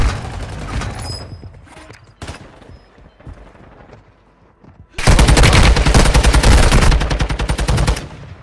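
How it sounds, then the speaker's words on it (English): Gunfire in the mobile battle-royale shooter Warzone Mobile, starting with loud bursts, thinning to scattered distant shots, then a sustained, very loud automatic fusillade of rapid repeated fire for the final few seconds. "I don't even know where they're shooting at."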